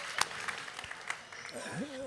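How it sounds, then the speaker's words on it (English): An audience at a Harry Potter Q&A with an actor gives a round of applause, a steady wash of clapping that fades as a voice begins speaking near the end. "Round of applause for Alex, by the way."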